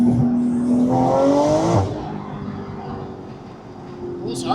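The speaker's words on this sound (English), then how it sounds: "I think this is the best sounding Porsche ever built." A Porsche GT2RS engine pulls hard under acceleration, its rising revs sweeping upward before easing off into a steadier cruising drone, with people talking over it inside the car.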